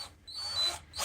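A power drill bores through metal while making z axis rails, giving a brief, thin motor whine that rises and fades within about a second.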